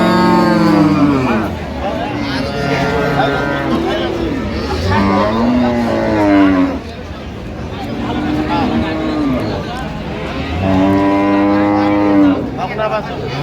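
Dairy cows and calves low at the Ambari cattle market in Dinajpur, several drawn-out moos rising and falling close by amid market chatter and voices.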